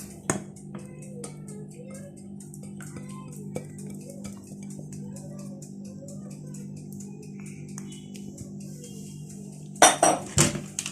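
Egg yolks being mixed into chocolate sponge cake batter in a bowl, with steady faint scraping and clinks of a utensil against the bowl, then a few louder clanks near the end.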